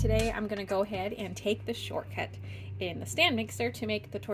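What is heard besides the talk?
No distinct noise like a dog, phone or traffic.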